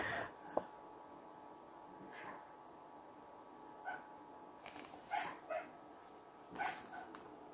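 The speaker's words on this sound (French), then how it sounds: "vous entendez ma chienne qui fait un rêve." A female dog whimpers in her sleep while dreaming, giving faint, brief yips and soft whines scattered across a quiet room with a low hum.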